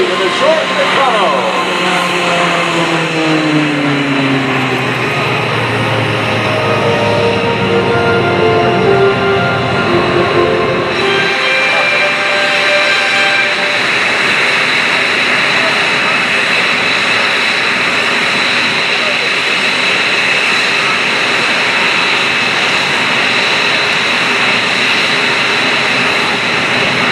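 A Short Tucano turboprop flies a display at the Dover AFB open house airshow, its engine note sweeping and shifting as it passes, then settling into a loud, steady roar that lasts to the end.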